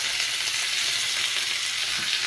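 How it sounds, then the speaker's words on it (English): Pork rib pieces, cut lengthwise into riblet-style strips, sizzle and fry steadily in a black frying pan, a dense continuous crackle close by with no talking. "I'm starting out here in the black frying pan. I got them browning nicely."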